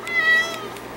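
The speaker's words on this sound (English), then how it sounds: "This is the story of my life with this cat" A house cat lets out a single loud, close meow, drawn out and tonal, fading away at the end.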